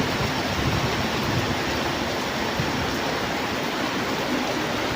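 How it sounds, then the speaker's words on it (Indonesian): Heavy rain pours down steadily on a mountain road crossing, a dense, unbroken hiss that fills the space evenly from start to finish with no other sounds. "Semakin lebat hujannya guys, kita terkurung guys di sini."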